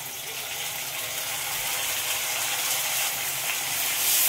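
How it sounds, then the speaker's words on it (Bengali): Garlic-ginger paste sizzles steadily in hot oil in a frying pan with fried onions, a close, continuous bright crackling hiss that swells slightly louder toward the end, with no voices. "পেঁয়াজটা ভাজা হয়ে গেছে। এবারে রসুন আদার পেস্টটা দিয়ে দেবো।"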